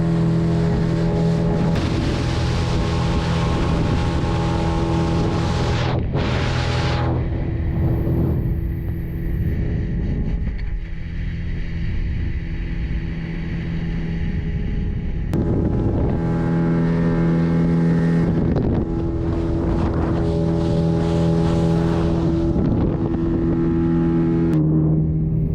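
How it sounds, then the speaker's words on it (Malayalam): A motor boat ride on the lake at Muttukadu Boat House: a loud, steady engine drone with constant wind rush over the microphone, running unbroken for the whole ride apart from a brief dip in the middle. "സ്പീഡ് ബോട്ടിന് ശേഷം നമ്മൾ മോട്ടോർ ബോട്ടിലാണ് നമ്മൾ യാത്ര ചെയ്യുന്നത്."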